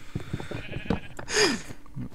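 A single wavering sheep bleat rises loud and close in a survival video game, following a run of short knocks and hits from gameplay.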